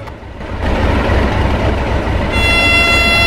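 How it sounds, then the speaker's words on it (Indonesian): Horn of a D301 diesel locomotive sounding at a rail site, a loud sustained blare that builds and then takes on a brighter, harder tone over the engine's low rumble. "Wow, suara klaksonnya keren ya. Wow, ini dia nih lokomotif D301."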